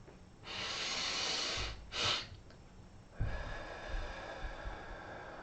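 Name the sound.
big sniffs through the nose during a breathing exercise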